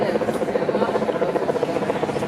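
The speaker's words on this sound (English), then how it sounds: "Here, a helicopter in the distance" A helicopter thrums in the distance over a steady urban hum along a Toronto waterfront street near the port, its low rotor chop faint and continuous.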